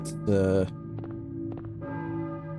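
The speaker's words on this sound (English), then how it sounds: "I hear a church bell, maybe? Who is ringing the bell?" Church bell ringing in the Silent Hill video game: a resonant metallic clang with a long ringing decay, followed by fainter tolls and a sustained hum, heard clearly without speech.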